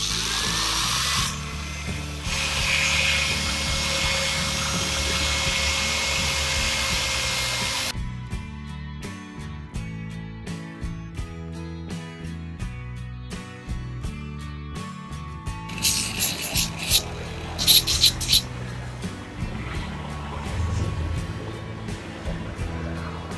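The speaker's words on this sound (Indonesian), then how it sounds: "Pertama, teman-teman bisa menyiapkan ini gerinda ya. Gerinda kayak gini." Handheld angle grinder enlarging the port of a motorcycle cylinder head, a steady loud whine for several seconds, then broken bursts and stops as the tool is applied and lifted, ending in sharper high grinding.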